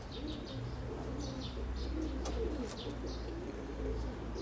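Large grey pigeon cooing in a loft, soft repeated low coos over faint chirps and a steady background hum while someone talks nearby.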